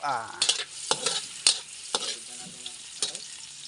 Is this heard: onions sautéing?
yes